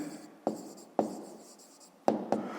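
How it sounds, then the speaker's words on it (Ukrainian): A pen writes down the answer to a fifth-grade maths problem in quiet, separate strokes, with a few distinct taps and scratches spaced across a near-silent background. "ну а тепер записуємо відповідь"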